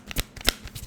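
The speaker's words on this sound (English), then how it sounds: "I'm going to shuffle the cards first as always" Tarot cards being shuffled, two or three quick soft riffling bursts, close and brief.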